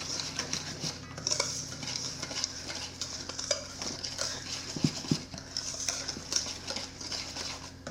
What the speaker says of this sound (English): We're gonna whisk it together.